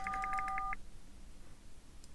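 Telephone keypad dialing in the adventure game Unforeseen Incidents: a rapid string of about nine crisp touch-tones, then a quiet gap, and one more tone at the very end.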